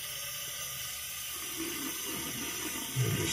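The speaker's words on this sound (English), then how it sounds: "you're supposed to run water underneath it, just kind of to clean it out." Water runs through an unscrewed filter from a filtered water-softener shower head, held under a tap: a steady, moderately loud hiss with a brief louder splash near the end, no voices.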